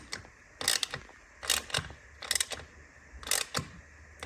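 Screws are tightened evenly on an Akrapovic carbon slip-on exhaust on a BMW R NineT Racer, with four short, close ratcheting bursts separated by pauses, each a quick clicking rattle.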